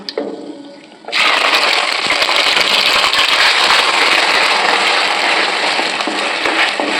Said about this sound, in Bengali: এবার আমি পেঁয়াজটা ছেড়ে দেব।